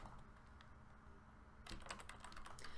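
Typing on a computer keyboard: rapid, close clicking keystrokes that begin abruptly after a quiet stretch and continue to the end, with no talking.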